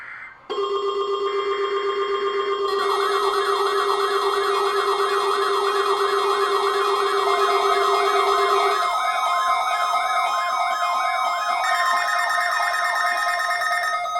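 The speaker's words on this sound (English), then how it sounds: "The attention signals you just heard will automatically activate special receivers to warn of impending hazards." NOAA Weather Radio warning alarm attention signal: loud electronic tones, a steady pitch joined by a rapidly warbling tone, continuous and piercing throughout.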